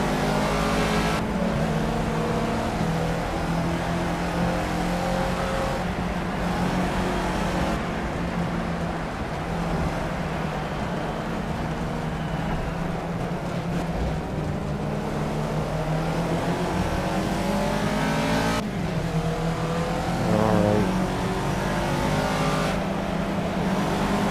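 A race car in Project Cars driving on a wet track in the rain, its engine droning and revving up and down continuously with shifting pitch against a steady hiss of spray, loud and close.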